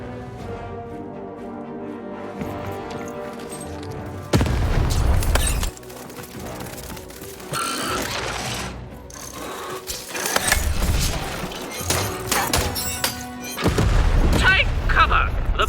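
Cannon in the Lost In Random video game fires in heavy booming bursts, several loud blasts separated by quieter stretches of game music and effects, with a voice speaking at times.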